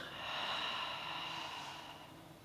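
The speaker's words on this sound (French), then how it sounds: "Donc, inspire ici et expire" One slow, steady breath drawn during a Pilates session, a soft airy hiss close to the mic that swells and fades over about two seconds.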